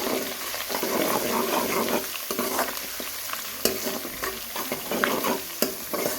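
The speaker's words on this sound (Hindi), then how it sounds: "प्याज हमारे ब्राउन हो चुके हैं तो हम इसमें लहसुन अदरक डालेंगे 1 खाने का चम्मच" Garlic and ginger frying with browned onions in a pot for a lobia and chicken gizzard-liver dish, a steady close sizzle broken by scraping stirs and a few sharp clinks of a spoon against metal.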